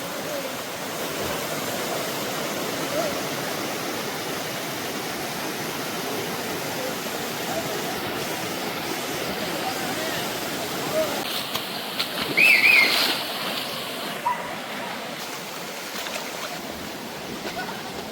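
Penchalakona waterfall: a steady, loud rushing roar of falling water nearby, unbroken throughout, with a brief louder swell partway through.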